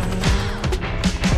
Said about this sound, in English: Backfiring like crazy.